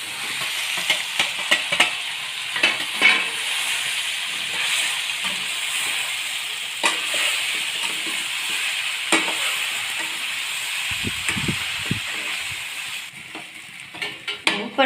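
Muthiya dhokla gets stirred into a sizzling turmeric and red chili mixture, with a steady frying hiss broken by repeated scraping strokes and a few soft knocks of a utensil against the pan.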